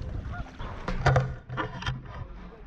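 Geese honking near a pond with ducks nearby: a few loud, nasal honks sound close by in the middle, set over soft outdoor background noise.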